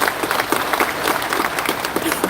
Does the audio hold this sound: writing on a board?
no